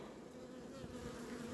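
Honeybees hum steadily around a backyard hive fitted with a honey super in spring, a faint, continuous droning buzz with no talk over it.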